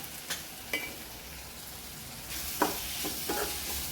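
Chopped tomatoes sizzling in an oil tempering in a pan on low heat, a steady crackling fry with occasional sharper pops and spatters, close and continuous.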